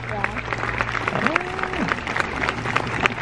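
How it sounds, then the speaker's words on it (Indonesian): A crowd claps in a rapid, steady patter outside a house, with people talking over it and one voice rising and falling in a drawn-out call. "Tepuk tangan aja."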